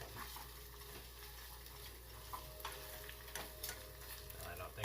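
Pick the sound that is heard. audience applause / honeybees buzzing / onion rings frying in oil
onion rings frying in oil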